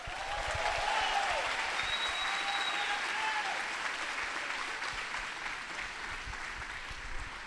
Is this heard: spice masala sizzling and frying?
no